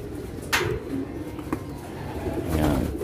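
Pigeons coo softly in a low murmur, with a couple of brief flutters or bumps nearby and a faint steady background, with no talking.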